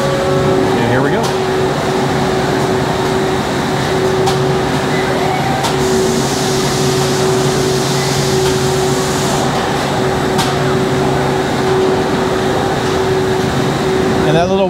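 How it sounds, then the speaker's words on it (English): Roller hemming wheel folding sheet metal edges on a GM Fort Wayne Silverado and Sierra 1500 truck assembly line: a steady, loud mechanical whine over a continuous industrial drone, with voices talking throughout. "that little wheel just pushes that metal down. Mm-hmm. That's right. Just folds it over a little"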